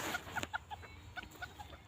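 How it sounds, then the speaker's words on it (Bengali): Chickens clucking in an onion field, a series of short, fairly faint clucks in an irregular rhythm close by, with no talk over them. "পেঁয়াজের ক্ষেতে কতগুলো মুরগি এসে ডিস্টার্ব করতেছে"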